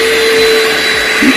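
A vacuum cleaner with a carpet attachment runs loud and steady, a continuous close roar with a constant motor whine while it works over a carpeted room in a high-traffic area.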